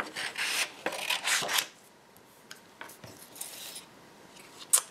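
Scissors cut around the edge of a paper birth announcement card in close, dry, rasping snips. A few steady cutting strokes come first, then shorter, quieter snips after a pause, with no talking.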